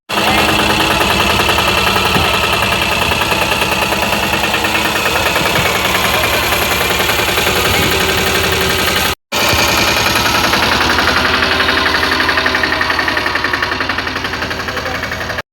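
A tractor engine chugs loud and close with a steady knocking rhythm while sowing chickpeas in a farm field, running continuously apart from one brief dropout partway through.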